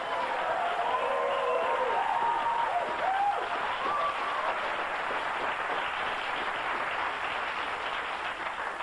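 Studio audience at a late-night talk show monologue reacts to a joke with sustained broadband applause and cheering, loud and steady throughout, with a few voices rising above the crowd noise early on.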